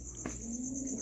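A pigeon gives a single low, brief coo, faint and close in a quiet space, with a soft steady background hum.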